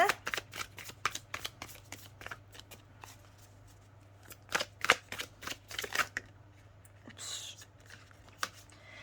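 Tarot cards being shuffled close up in quick riffling bursts of crisp slaps and flutters, pausing and resuming over several seconds at a low level.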